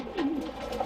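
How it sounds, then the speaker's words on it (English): A pigeon in a fancier's loft gives a short, soft, low coo nearby, a single gentle rolling call over quiet background noise. "You see the pigeons"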